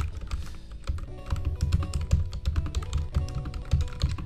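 Rapid typing on a small computer keyboard, close and clear, with quick irregular clacks and brief pauses, no talking.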